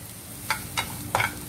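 Green chilies going into a frying pan with capsicum while making poha idli: a soft sizzle with three brief stirring scrapes, close and quiet, with no talking.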